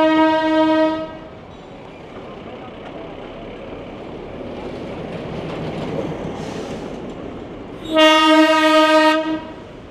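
A Darjeeling Himalayan Railway train in wintry hill-station Darjeeling sounds a long harmonic horn, then rumbles and clatters past nearby before a second loud horn blast near the end.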